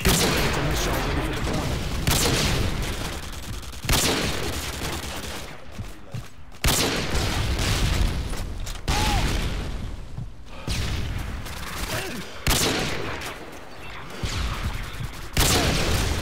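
Dense, loud volleys of gunfire and booming shots fill a Call of Duty: Modern Warfare 2 match, the shooting broken only by a few brief pauses, with some talking faint underneath.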